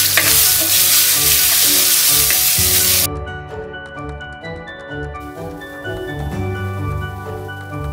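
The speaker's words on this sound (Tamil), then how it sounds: "வெங்காயம் பொன்னிறமாக வதங்கிடுச்சு." Finely chopped onions fry in hot oil for a village-style mango drumstick kuzhambu, a loud, bright sizzle that cuts off abruptly after about three seconds, leaving quieter crackling and stirring with spoon clinks.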